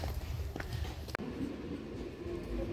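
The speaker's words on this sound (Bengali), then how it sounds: "এই যে ট্রেন ঢুকলো বগুলায় একদম ঠিকঠাক টাইমে।" A Ranaghat–Bongaon local train pulls into Bagula station in West Bengal, a low continuous rolling rumble from nearby with a single sharp click midway.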